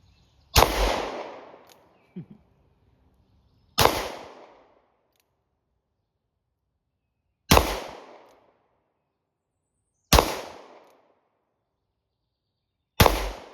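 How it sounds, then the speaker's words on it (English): Five loud, sharp revolver shots from a Taurus 692 Executive, fired slowly at uneven intervals of about three seconds, each a crisp crack with a short decaying tail, plus one faint click early on. "Same process, we're gonna shoot some, see if they all go off, see if they work"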